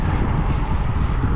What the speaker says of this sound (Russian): Ветер дует боковой.